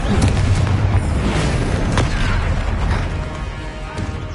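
Confringo fire spell blasts in a Hogwarts wizarding video game, booming explosive bursts with rumbling low impacts and crackling debris, loud and dense with no speech over them.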